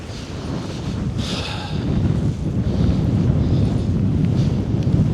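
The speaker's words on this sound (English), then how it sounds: "if you can hear me through this wind" Wind buffets a microphone outdoors at a wild camping spot with a tent in remote nature, making a steady low roaring rumble throughout with gusts swelling slightly, and no voices.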